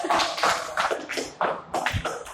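Students in a classroom clap in short, uneven bursts, a small group of hands slapping close by with brief gaps between rounds rather than a sustained ovation.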